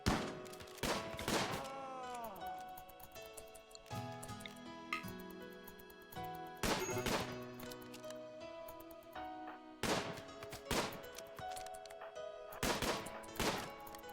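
Assault rifle fire from RimWorld, heard as several sharp bursts of shots spread across the stretch, the first near the start and others around the middle and the end, with faint game sounds in the quieter gaps between.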